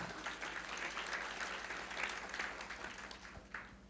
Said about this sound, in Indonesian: Yesus katanya, berikan tepuk tangan